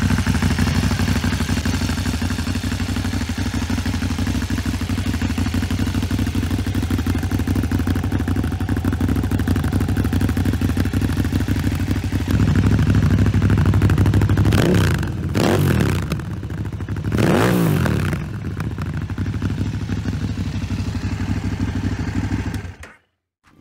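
A KTM 950 Super Enduro R motorcycle's liquid-cooled V-twin engine runs loud and steady with a deep droning rumble, then rises and surges with some clatter before cutting off abruptly.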